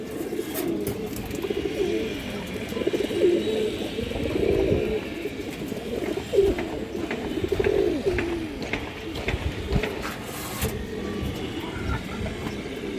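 Pigeons kept for sale cooing nearby, a run of soft, low, rolling coos repeating over several seconds against faint background hum and distant traffic.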